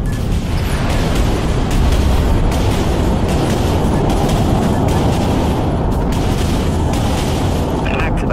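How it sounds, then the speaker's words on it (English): Torpedo launches and explosions in the naval video game Dreadnought: a loud, continuous rumbling barrage of booms and blasts with repeated sharp impacts, close and heavy throughout. "Launch torpedoes"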